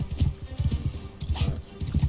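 Rhythmic hoof clip-clops of a horse in the video game Mount & Blade II: Bannerlord, in a steady trotting pattern, fairly close and clear, with a brief higher swish partway through.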